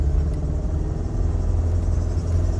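Engine of a tuned Citroën AX Sport, heard from inside the car as a steady, loud low rumble that holds evenly throughout, with no voices over it.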